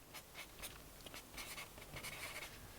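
A pen or marker sketches a diagram by hand, giving faint, close scratchy strokes in short uneven bursts over a quiet background.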